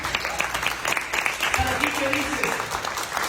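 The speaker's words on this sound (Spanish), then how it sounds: "Denle un aplauso al Señor, aleluya." A church congregation claps together in praise, a brief burst of scattered applause mixed with voices and a faint musical tone underneath.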